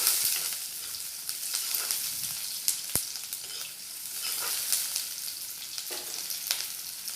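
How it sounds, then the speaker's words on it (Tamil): Chopped onions sizzle and sauté in a hot pan, a steady crackling fry with occasional louder pops and stirring scrapes, close and continuous with no talk. "வெங்காயம் நல்லா வதக்கினோடனே அதுக்கப்புறம் தக்காளியை போட்டுருவோம்."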